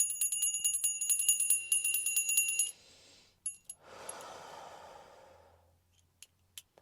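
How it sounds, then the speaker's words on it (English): A small bell rings repeatedly in quick, bright strikes for a few seconds, followed by a breathy exhale and a few scattered faint taps in an otherwise quiet room. "Hold on, I'm gonna ring the bell again."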